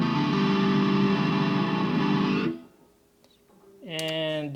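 Electric guitar played through its bridge pickup with distortion, a loud sustained crunchy chord ringing for a couple of seconds, then a short gap before another distorted chord rings out.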